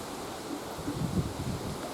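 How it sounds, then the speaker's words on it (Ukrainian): Low, steady wind rushes past the microphone, a soft gusty roar with slight swells and no voices. "Це вже вітер цей нагонить там дощу."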